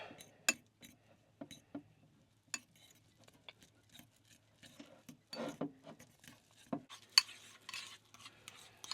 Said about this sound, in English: All right, let's give this a mix.